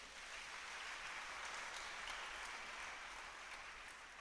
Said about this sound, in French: Acclamons d'abord le Seigneur.